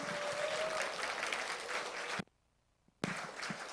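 An audience at a university's 45th founding anniversary ceremony claps in a dense, moderately distant burst of applause. The sound drops out abruptly to near silence, then the clapping resumes.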